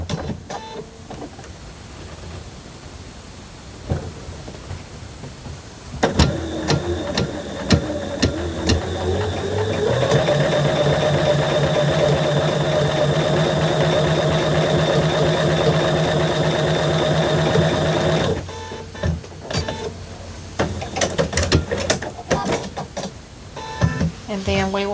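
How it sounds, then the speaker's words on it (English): A sewing machine sews a diagonal seam across a quilt unit, giving a steady, close mechanical whirr that runs unbroken for about twelve seconds before stopping, with quieter handling noises before and after. "we're just going to sew that on the unit."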